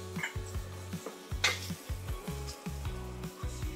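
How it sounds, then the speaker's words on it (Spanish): Garlic sautéing in a pot as the base for broccoli cheddar soup, a low sizzle under a quick, regular series of close spoon scrapes and knocks against the pot. "Igualmente lo vamos a sofreír"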